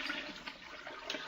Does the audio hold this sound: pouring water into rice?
yes